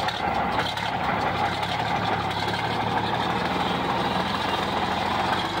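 A 1965 Mack B61 dump truck's diesel engine drives in high range, giving a loud, continuous low drone with a steady hum and no change in pitch. No one speaks.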